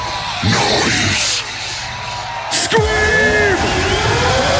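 A rave crowd at Rampage 2018 yells and cheers loudly, a big surging roar of voices with whoops, while an MC's amplified voice shouts over it.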